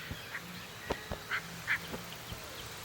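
Hyacinth macaws, the largest flying parrots, call in the Pantanal with a few harsh, separated squawks, moderately distant, over quiet background sound with soft knocks.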